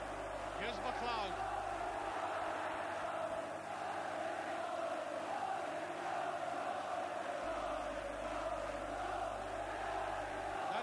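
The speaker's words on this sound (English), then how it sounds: "A free kick, and now the Parkhead crowd have come alive" The Parkhead crowd at Celtic Park roars in a sustained, dense swell as a free kick is awarded during the 1984 Celtic v Aberdeen football match. A commentator speaks over the din.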